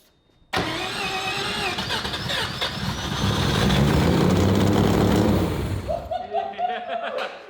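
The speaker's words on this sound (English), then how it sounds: "I'm gonna see if we can get the car to idle" A three-rotor rotary engine in a Mazda RX-7 running E85 cranks and catches abruptly, then runs loudly with a rough, throbbing idle before easing off as voices break in near the end.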